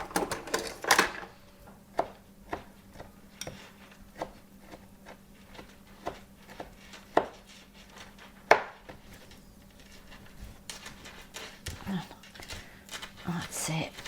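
Capers chopped with a big knife on a board, a string of sharp irregular taps and knocks close by, some louder thumps mixed in, while people talk quietly nearby.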